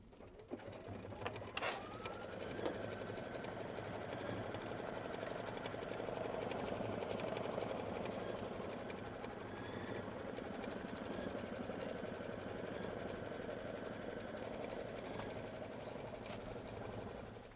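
An embroidery machine stitches a quilt block in its hoop, a steady fast mechanical whir and needle chatter that runs unbroken and moderately loud, with a few clicks at the start and no talk.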